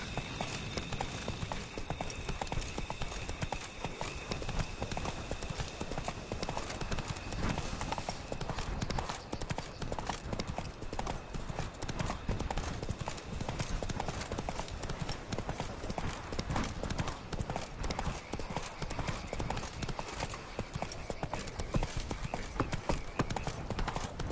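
Roach, a horse in The Witcher 3, gallops with fast, continuous hoof clip-clops over a dense, steady rumble of movement, loud and close.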